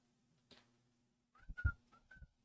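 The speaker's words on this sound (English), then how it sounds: "I don't whistle very well." A person whistles a few short, wavering notes, a faint thump coming first, then the soft, uneven whistle tones close by in a quiet room.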